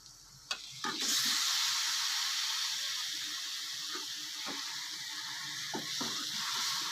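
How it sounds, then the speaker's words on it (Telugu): Fish pieces drop into hot chili masala for an Andhra-style fish curry, setting off a loud, steady frying hiss with small crackles. The hiss starts about a second in and holds with no talk. "దీంట్లోకి చేప ముక్కలను యాడ్ చేద్దాం"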